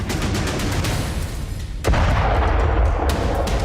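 A heavy boom of a K9 Vajra self-propelled howitzer firing at Pokhran cuts in over continuous loud rumbling noise, leaving a sustained roar afterward.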